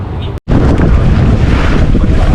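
Boat slowing down at sea off Kemaman during a squid jigging trip, heard as a loud steady rush of wind and water with engine rumble after a brief dropout, no talk.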